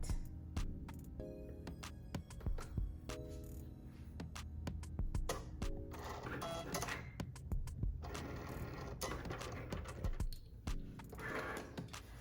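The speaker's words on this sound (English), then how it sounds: "insert it into your printer, into your Cricut or your cutting machine, and let it cut." A small Cricut-type cutting machine whirs and clicks steadily while cutting Siser EasySubli transfer sheet, its motor buzzing in short bursts with rapid ticking movements, fairly quiet and close.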